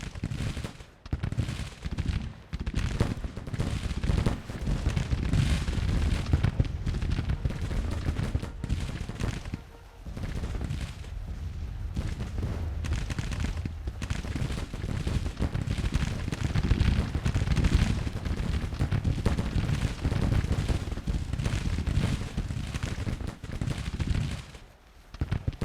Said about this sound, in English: they're gonna shoot at them for a while